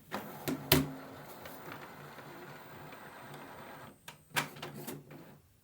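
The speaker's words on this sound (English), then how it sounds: "The printer will pull out the paper output" An Epson ET-3950 inkjet printer feeds paper and prints, with a few sharp mechanical clacks at the start and again near the end and a soft, steady whir in between.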